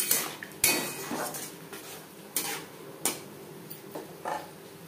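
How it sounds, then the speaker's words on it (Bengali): Fish curry spice paste being stirred with onions in a pan for katla kalia, loud clanking scrapes of a metal spoon against the pan at uneven intervals, no voices. "পেঁয়াজের সাথে বেশ ভালো করে মিক্সড করে দেবো"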